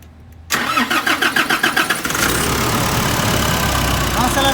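A Nissan Frontier pickup engine with a strange turbo noise cranks with a rapid rhythmic starter whir, catches and settles into a loud, close, rough idle with a steady mechanical clatter.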